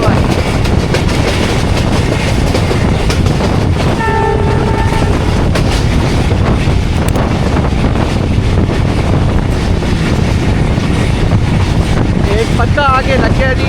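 The Jaffar Express, 40 Down, runs through Hasan Abdal railway station with a loud, continuous roar and clatter of wheels on rails, a sustained horn blast partway through, and higher squeals near the end.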